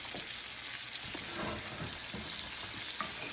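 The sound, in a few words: butter basting ribeye steak with garlic, thyme and rosemary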